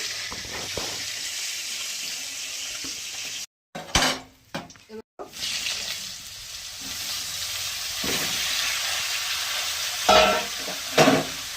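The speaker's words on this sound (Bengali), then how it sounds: "এবার ভেজে নেবো লবণ হলুদ দিয়ে" Vegetables being fried in a pan with salt and turmeric give a steady close sizzle, with stirring scrapes and clinks of utensils against the pan and a short break partway through.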